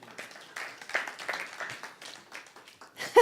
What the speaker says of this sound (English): It's such a weak applause.